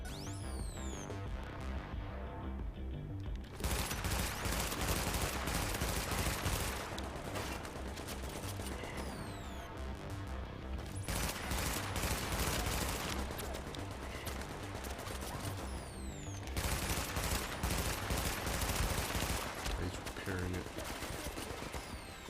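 Bursts of automated turret gunfire in The Division, sustained loud volleys with brief lulls, mixed with game music and effects throughout.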